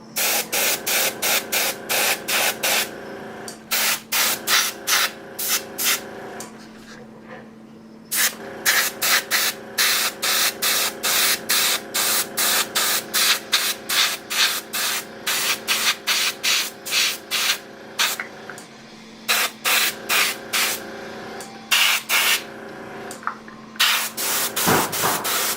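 Spray can laying a final heavy coat of paint on a model build: repeated long hissing bursts with brief pauses, close and loud, no talk.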